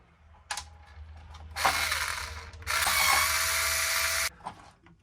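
Power driver or ratchet backing screws out of the hinge pin brace on a Team Associated Pro4 RC monster truck, two sustained close whirring bursts with mechanical clicking, no talking.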